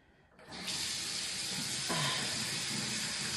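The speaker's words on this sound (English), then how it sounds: "you have to wash your face and then wet your nose" A bathroom tap is turned on for face washing and gives a steady, close rush of running water that starts abruptly after a soft clatter and keeps flowing at an even level.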